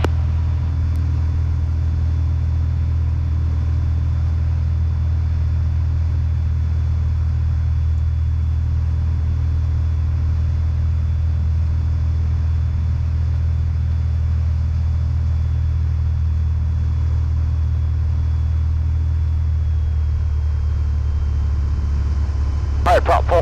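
Steady low drone of a Piper Cherokee 235 single-engine propeller aircraft in flight near Currituck County Regional Airport, heard from inside the cabin as a constant loud rumble with no break, a brief click near the end.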